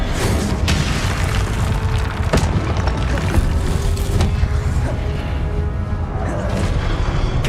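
A Confringo spell explosion in Hogwarts Legacy, a steady loud booming rumble with a few sharp crackling hits layered over continuous dense game noise.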